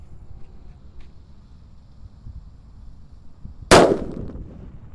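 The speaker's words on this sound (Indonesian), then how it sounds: "di sini ada mercon Power Man, gambarnya singa berwarna hijau guys" A Power Man firecracker, its wrapper printed with a green lion, goes off outdoors in a single sharp, loud bang with a short ringing decay, after several seconds of quiet rustling and faint wind.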